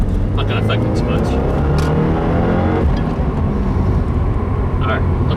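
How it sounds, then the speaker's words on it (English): A 2015 Subaru WRX on a Stage 1 map, with the air conditioning running, pulls hard in second gear. The engine drones loudly and climbs steadily in pitch, heard from inside the car. "here goes the second gear pull"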